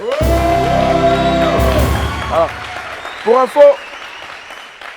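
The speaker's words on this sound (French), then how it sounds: "Applaudissez pour la grue, s'il vous plaît." Studio audience on a French television show cheering and applauding after a crane act, opening with a loud musical sting, then crowd noise, whoops and shouts, with a short spoken word.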